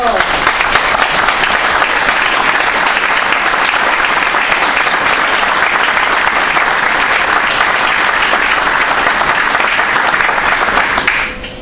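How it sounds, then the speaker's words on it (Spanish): An audience at a public launch event for a national culture plan bursts into sustained, loud applause, dense steady clapping that carries on for about eleven seconds before tapering off at the end. "ya que todos los aplaudieron"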